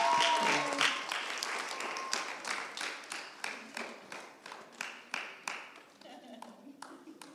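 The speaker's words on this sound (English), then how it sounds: "Shall we stand up and clap for the man of God?" Church congregation standing and clapping for a visiting preacher, an applause burst that settles into a rhythmic, evenly spaced beat of group claps, with voices mixed in.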